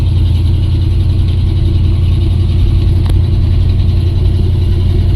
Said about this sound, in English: This is like my little test drive route